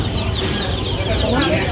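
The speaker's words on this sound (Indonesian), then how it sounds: "Ini ada orang mau beli anak ayam," Chicks cheep at a weekend open-air market in Miri, Borneo, amid a dense, loud, continuous chorus of chirping and clucking fowl, with crowd chatter running underneath.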